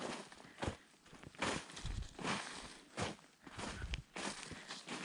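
Feet scuff and shuffle along a cave trail in New Hampshire, a series of faint, gritty scrapes in an irregular walking rhythm, close to the microphone with no talking.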